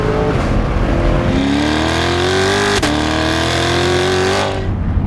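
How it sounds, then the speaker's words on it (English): Chevrolet C8 Corvette with a Matrix build, exhaust revved hard in track or sport mode, a continuous loud roar with rising engine pitch, a brief break near the middle, then climbing again before easing off at the end. "when you switch it back over to track or sport mode, now you can really let those things rip"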